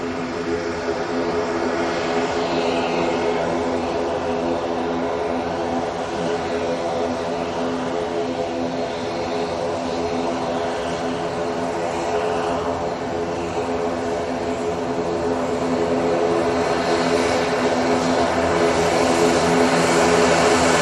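A propeller aircraft drones steadily nearby, a continuous buzzing hum with layered engine tones that gradually swells and recedes in loudness over about twenty seconds.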